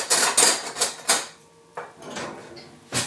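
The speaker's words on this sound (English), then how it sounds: "Into the Bisquick. And I'm going to give it a stir." A spoon stirs milk into Bisquick mix in a bowl, making several close clinks and scrapes against the bowl, then quieter swishing before a final knock.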